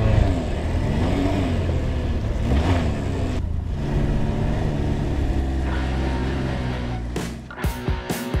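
A three-wheeler's engine revs and pulls away on the Hel peninsula, a steady motor drone with rising pitch swells, ending in a few clicks and knocks.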